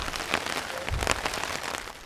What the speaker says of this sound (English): After just a few minutes of rain